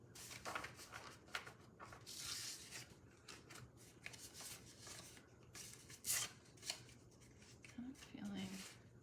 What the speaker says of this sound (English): I'm gonna shuffle again.